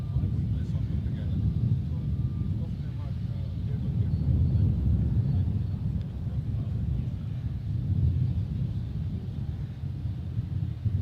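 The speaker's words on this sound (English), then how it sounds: "Little PC-12. Pretty quick to get up into the sky as well," A small Pilatus PC-12 turboprop takes off at Adelaide Airport, a low, rumbling engine drone heard at moderate distance that swells and fades gently, mixed with wind buffeting on the microphone.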